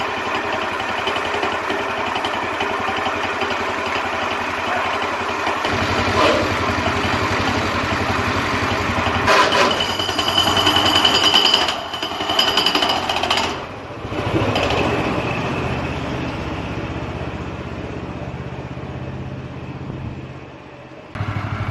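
The engine of a 1940s Lincoln garden tractor runs with a loud, rough, rapid chugging close by, its pitch and level shifting partway through as it revs and strains, then briefly dropping near the end.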